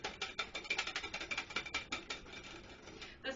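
Whisk strokes against a bowl as cream is beaten by hand until it thickens, a quick run of rhythmic scraping ticks, close and fairly quiet, easing off near the end.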